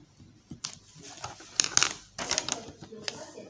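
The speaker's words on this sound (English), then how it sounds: "I can write something here." Scratchy, irregular strokes of a pen or pencil moving across paper, close by, with short bursts and pauses between marks.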